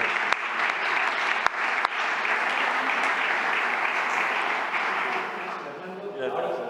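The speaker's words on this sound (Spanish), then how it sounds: "No aplaudáis, no aplaudáis." Sustained applause from a conference audience at a national party convention panel on pensions and dependency, steady broadband clapping throughout with a few sharp claps standing out, easing slightly near the end.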